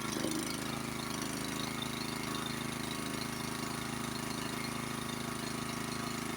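A Honda snowblower engine runs with the choke on in cold weather, a steady close mechanical idle with a rough, slightly uneven throb that hints at surging, continuous and fairly loud, no voices.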